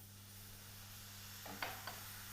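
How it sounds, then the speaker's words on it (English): White wine poured into a butter and flour roux in a pan, giving a faint hiss that swells into a soft sizzle with two brief bursts over steady kitchen hum. "So into there we're going to put a little bit of white wine"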